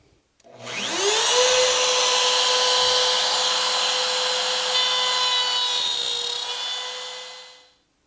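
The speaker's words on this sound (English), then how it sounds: "I've got a small trim router in here that just barely fits. I've set the depth. I'm just going to route this out" A small trim router cuts a shallow recess into wood, spinning up with a rising whine into a loud, steady high-pitched scream, holding for several seconds before winding down.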